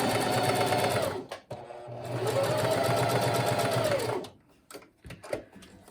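A sewing machine runs a straight stay stitch through muslin at a 1/2 inch seam allowance and 2.5 stitch length, a steady close whir that pauses briefly, resumes for a longer run, then stops and leaves quiet handling noises.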